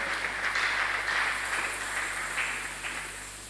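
A church congregation applauds after a sermon reading, a steady wash of many hands clapping at some distance, fading slightly toward the end.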